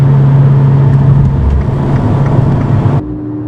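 An Abarth 595 Competizione hot hatch drones loudly and steadily with a strong engine hum for about three seconds before the sound cuts to a quieter, lower rumble.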